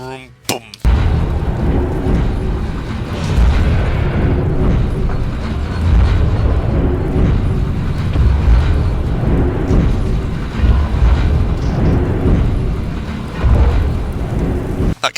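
Heavy, deep thumping booms of walking machines in the video game Sir, You Are Being Hunted, loud low rumbles repeating over a continuous roar, with a voice speaking over them.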